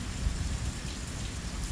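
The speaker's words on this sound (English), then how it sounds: "the rain is petering out" Heavy rain falls during a storm in Rome, New York, a dense, steady roar of drops on surfaces, loud and continuous with no voices.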